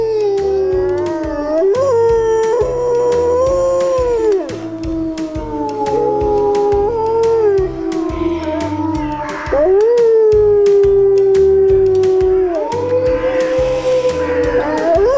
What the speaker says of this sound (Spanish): Esto es Sonido de Lobo,